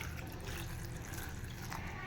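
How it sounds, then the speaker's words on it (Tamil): Water poured into a cooking pot of greens with green chilli and onion for Tamil keerai kadayal, a steady close wash of splashing liquid heard alone. "இது தேவையான அளவுக்கு தண்ணி ஊற்றிக்கலாம்."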